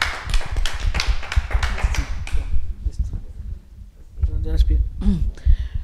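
An audience claps in a quick burst of applause that fades out, after which a voice starts speaking.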